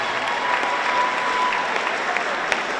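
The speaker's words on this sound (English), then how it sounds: "How about one more round of applause for these individuals and their parents?" Sustained audience applause fills a gym at a high school girls basketball senior night, dense steady clapping from a crowd with a faint tone running through and a few louder claps near the end.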